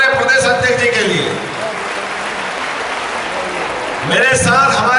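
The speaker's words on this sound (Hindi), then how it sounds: "हमारे सांसद विनी शर्मा जी के लिए जोरदार तालियां बजाओ" A crowd at a mass wedding ceremony at Bageshwar Dham claps for MP Vini Sharma. A steady wash of applause fills the middle, with an amplified voice at the start and returning at the end.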